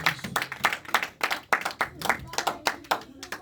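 Church congregation clapping together during a Sunday worship service, steady rhythmic handclaps in a lively beat, fairly close and full, with some voices mixed in beneath.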